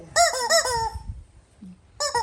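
Loud, near squawks from a chicken come in a quick burst of about four calls, then a pause with a faint low cluck, then another squawk at the end, with no voices over them.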